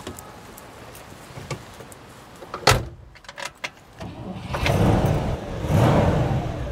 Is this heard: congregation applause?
no